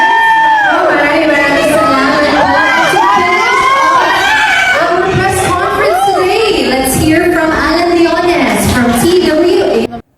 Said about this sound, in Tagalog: marinig niya ang sigawan sa mga babae sa gilid ng stage